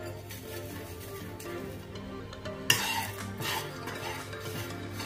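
Shrimp and spices are stirred and toasted together in a pan, a soft continuous scrape and faint sizzle with a clearer clink of utensil on pan partway through, fairly quiet and close.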